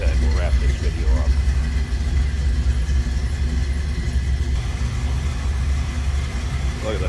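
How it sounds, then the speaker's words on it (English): A 350 Chevy V8 in a 1960 Chevrolet Impala Bubbletop with a 700R4 automatic idles steadily with a deep, continuous low rumble that stays loud and even throughout. "Good sounding at idle, listen to that."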